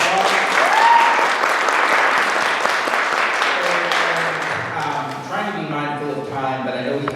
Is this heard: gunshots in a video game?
no